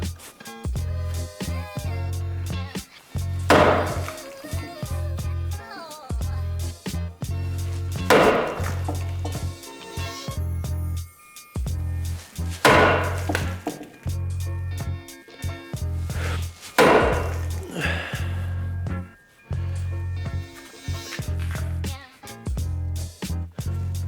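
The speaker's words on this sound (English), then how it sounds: "Maybe I'll get a big hammer and see if I can tweak it back a bit." Repeated loud hammer blows on a BMW E30 steel car frame ring out at irregular intervals over a steady low hum, each strike sharp and resonant.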